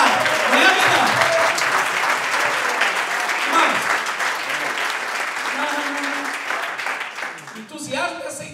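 A church congregation applauds steadily and warmly throughout, a dense wash of many hands clapping, with a voice speaking over the crowd near the end.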